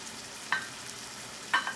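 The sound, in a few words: chicken and vegetables with cilantro and mint cooking in a pan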